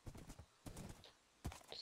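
Hooves of a horse clip-clopping in Minecraft, in quick bursts of rapid close thuds separated by short pauses, with a faint higher chime near the end.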